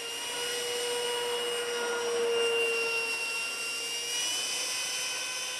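A scratch-built trainer jet's 70mm electric ducted fan on a 3000kv motor at 14V throttled up, a steady, fairly faint high-pitched whine that swells slightly, with no talk.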